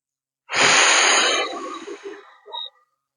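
A single long, close exhalation during a core exercise, breathy and strong at first, then fading into softer, uneven puffs and a brief wheezy tail before silence.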